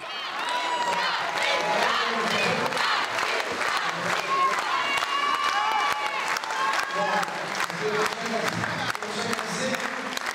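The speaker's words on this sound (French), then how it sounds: "nouvelle ovation, pluie d'applaudissements" A festive crowd in a cabaret in Caen gives an ovation on an election victory night, sustained clapping with cheers, whoops and shouted voices throughout, loud and close.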